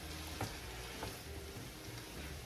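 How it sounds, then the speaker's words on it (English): Cream cheese melts in a pan with a soft, faint sizzle as a utensil stirs it with a few light scrapes, close and without talk. "We're going to mix this up till it's all melted."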